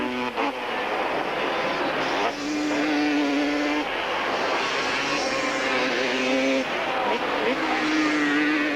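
A Honda and a Yamaha Banshee race motorcycles scream around the revamped Kyalami circuit in a 1998 Super Series race, sustained high-revving engines rising and falling through gear changes, loud and continuous, with a commentator faintly underneath.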